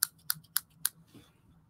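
Large scissors snip paper for a collage, four sharp, close cuts in quick succession, then a faint rustle of paper.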